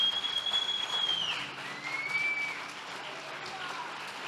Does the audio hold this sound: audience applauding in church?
yes